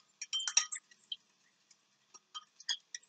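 A spoon clinks against a glass while stirring a cornstarch slurry, bright scattered taps in irregular clusters, close and fairly quiet with silence between them.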